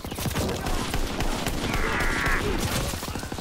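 A Call of Duty WW2 multiplayer battle is dense with sustained rapid gunfire, a near-constant clatter of overlapping shots that sounds like machine gun bursts mixed with other weapons, loud and without pause across the clip.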